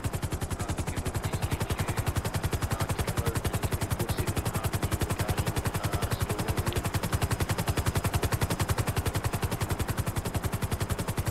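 Rapid, sustained automatic gunfire in a police roleplay video game, a dense rhythmic stream of loud, evenly spaced shots running without pause for the whole stretch, with no voices over it.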